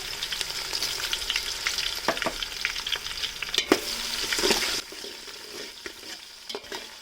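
Onions, cumin and mustard seeds fry loudly in hot oil, a steady close crackling sizzle broken by scraping stir strokes; it softens slightly toward the end, with no talking.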